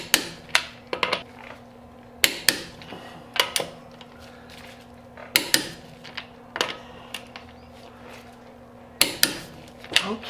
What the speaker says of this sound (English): we're all set to retorque the wheel bolts